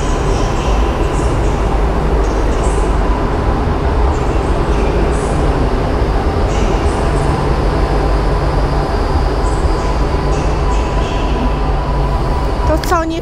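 A train at a railway station rumbles and hums loudly and steadily throughout, with a brief metallic squeal near the end, while people talk over it.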